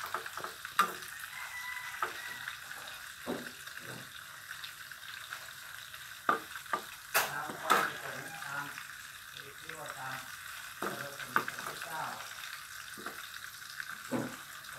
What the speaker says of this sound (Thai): ทำหมูทอดชีสให้ลูก